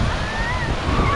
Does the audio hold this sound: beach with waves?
yes